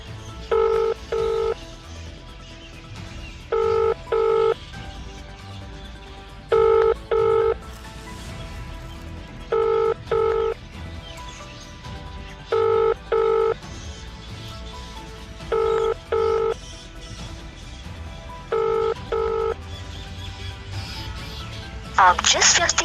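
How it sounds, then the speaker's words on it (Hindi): Phone ringback tones repeating in paired bursts about every three seconds while an unanswered call is placed again; a steady loud ring pattern over low background noise, with no voice picking up. "ये आप सुन सकते हैं कि किस तरह से इन्होंने दोबारा कॉल लगाई और वो व्यक्ति कॉल नहीं उठा रहा"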